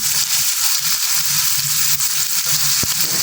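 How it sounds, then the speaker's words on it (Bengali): Chopped onion and garlic frying in a pan on the stove, a loud, close crackling sizzle with irregular spits and pops, heard alone without talking. "আমরা চুলায় দিয়ে দিলাম পেঁয়াজ আর রসুন কুচি এখন এগুলা ভাজা ভাজা করে নেব"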